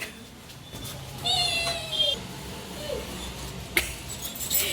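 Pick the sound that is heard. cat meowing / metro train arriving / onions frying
cat meowing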